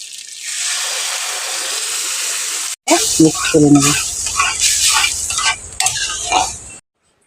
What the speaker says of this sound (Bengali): এখন আমি ডালটাকে এই পেঁয়াজের উপর ঢেলে দেবো